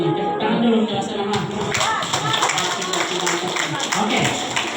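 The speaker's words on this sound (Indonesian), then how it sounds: "Tepuk tangan dulu kelas 6A." Parents at a class 6A parents' meeting break into applause, a dense wash of hand claps mixed with crowd chatter and voices that swells and continues steadily throughout.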